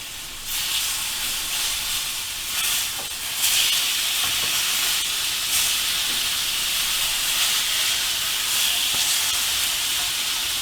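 Chicken pieces in a pan for a simple chicken curry sizzle in a loud, continuous hiss that flares briefly as they are turned over, with no voices.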